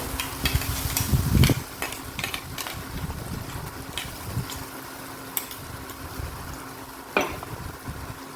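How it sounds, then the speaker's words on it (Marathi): Ground chutney with turmeric and homemade Agri Koli masala sautés in oil over a medium flame, with soft sizzling and scraping stirs, a louder clatter of utensils early on, and no talk. "चटणी थोडीशी परतून घ्यायची आहे आपल्याला"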